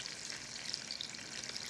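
Bread fries in a pan, a steady, close, crackling sizzle of hot oil that holds constant throughout with no voices.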